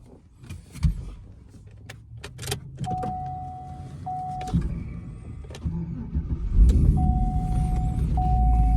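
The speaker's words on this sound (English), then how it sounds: "let's start this thing up. Listen to this sound of this car." A Cadillac CTS-V tuned to over 600 horsepower rumbles as its engine starts and then idles up close, with a low steady drone and a couple of whirring electric motor tones from the cabin.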